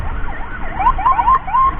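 An emergency ambulance siren wails in rising and falling sweeps while the vehicle, escorted through traffic, pushes along a road; the siren is loud and steady over a low road rumble.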